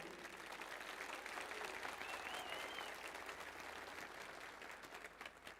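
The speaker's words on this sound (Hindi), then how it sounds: "अगर मैं सच बोल रहा हूं तो आपकी तालियां पहुंचनी चाहिए" Crowd applause at a public speech event in Ujjain rolls on as a continuous, fairly faint wall of clapping from a large audience, easing slightly toward the end.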